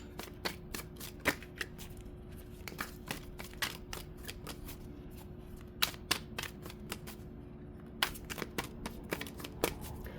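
Tarot cards are shuffled close up and quietly, a soft riffling rustle punctuated by repeated sharp slaps and snaps as the deck is cut and squared.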